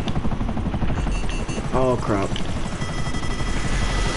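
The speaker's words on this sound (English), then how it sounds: "I'm facing a jet now, that's what happened." A jet attacking in the video game GTA 5 gives a loud, continuous engine roar with a rough mechanical rattle, filling the whole stretch while a player briefly exclaims over it.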